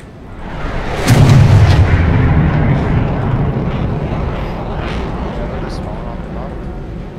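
A tank cannon shot in a video game lands as one heavy, loud boom, followed by a long rumbling roar that slowly fades. Voices talk faintly beneath it.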